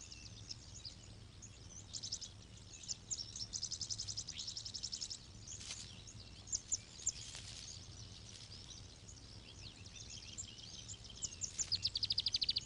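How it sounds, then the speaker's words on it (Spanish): A sunbird in a West African forest gives rapid, high, thin chirping trills in repeated bursts, fairly distant, over a faint steady hum of insects and forest ambience. "El pájaro de sol es principalmente una especie del África Occidental."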